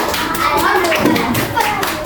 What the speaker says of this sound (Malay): tepuk tangan untuk Elina.